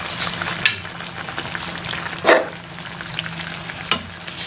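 Dried fish (tuyo) sizzles as it fries in a pan, a steady close crackle with a few sharp scrapes of stirring, one louder clatter in the middle.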